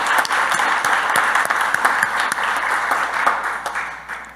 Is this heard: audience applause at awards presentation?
yes